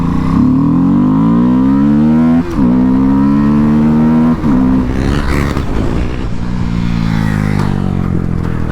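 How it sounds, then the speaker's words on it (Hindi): A KTM Duke 250 motorcycle revs loud and close, its steady engine drone dipping briefly twice as gears change and then climbing again. "देखिए भाई लोग गियर चेंजिंग ऐसे होती है।"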